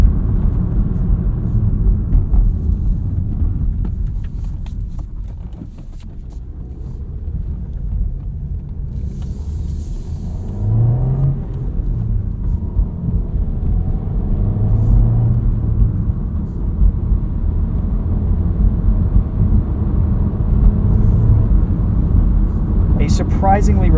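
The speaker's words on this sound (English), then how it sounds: "this engine's perfectly happy to sit at 1500 RPM and just kind of cruise all day" A 2023 Volkswagen Jetta Sport with a 6-speed manual cruises at about 1500 RPM, producing a steady low engine and road rumble throughout while a person talks over it from inside the cabin.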